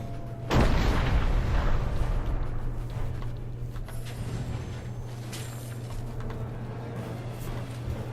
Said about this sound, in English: I don't know why they'd be targeting us with cannons